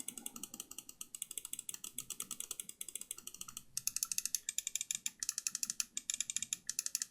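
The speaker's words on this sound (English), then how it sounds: "But here's the sound of it." Lamzu Atlantis wireless gaming mouse giving rapid, crisp, ratchet-like clicks in a fast run, close but fairly quiet, with no talking.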